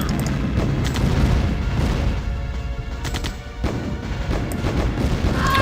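Rocket troops firing on a column of Humvees in the Command and Conquer strategy game, a dense, continuous barrage of booming blasts and rumbling explosions with no pauses, loud and close.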